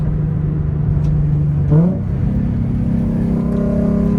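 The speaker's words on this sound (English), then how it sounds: "This car moves." A car fitted with coilovers drives under power, its engine droning steadily close by, then revving as it shifts gear mid-clip and pulling on with a rising tone.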